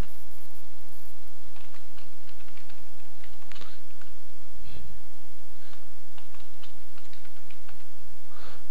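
Steady typing of C code on a computer keyboard, close and continuous, with rapid irregular key clicks and a few heavier thumps, and no voices.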